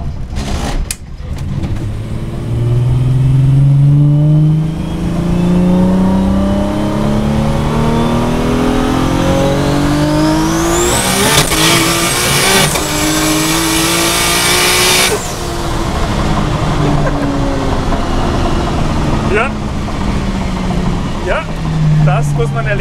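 A powerful car engine, a 1483 hp Golf 2, revs hard and accelerates through rising gears, loud and close, with voices audible underneath.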